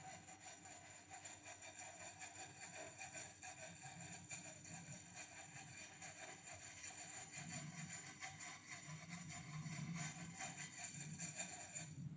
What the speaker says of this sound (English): I'm just maintaining the blade as sharp as it can be.